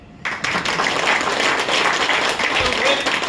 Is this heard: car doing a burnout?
no